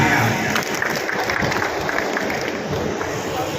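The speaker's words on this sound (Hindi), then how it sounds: "जोरदार तालियां" A crowd at a retirement honour ceremony gives steady, enthusiastic applause, with dense clapping that carries on evenly for several seconds and light murmuring underneath.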